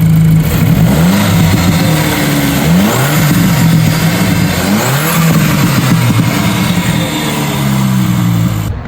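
Mark 5 Golf GTI engine fitted with an oversized ram-air induction kit, revving loudly and continuously with rising and falling pitch sweeps and a throaty intake roar, close up with no talking.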